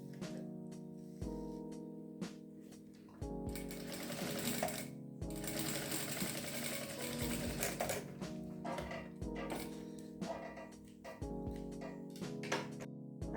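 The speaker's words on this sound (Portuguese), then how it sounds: "a gente precisa costurar daqui até aqui. Tem que costurar tudo." A sewing machine stitching crazy-technique patchwork fabric for a cup coaster, running in close, rapid mechanical chattering bursts with brief pauses and faint handling sounds between runs.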